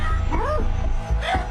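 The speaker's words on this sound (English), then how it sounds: "you can hear the dogs barking and stuff" Dogs barking and yelping in a few short, close bursts over a continuous low rumble of background noise, with no clear speech.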